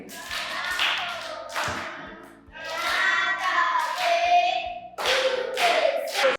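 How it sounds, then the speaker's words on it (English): Primary pupils in a class clap for a classmate, several bursts of clapping rising and falling, mixed with children's voices. "Can you clap for Joseph? Clap for him."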